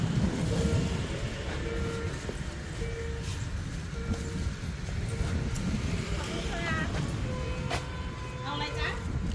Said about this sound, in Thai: เฮ้ยรถไฟมา รถไฟมา